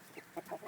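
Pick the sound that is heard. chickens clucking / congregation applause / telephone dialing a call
chickens clucking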